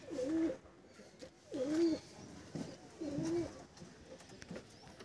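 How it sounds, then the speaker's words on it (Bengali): Desi pigeons in a loft give three clear, throaty coos spaced about a second apart, fairly close and loud against a quiet background, with no talking. "দেশি পায়রা কালেকশন দেখাবো আজকে"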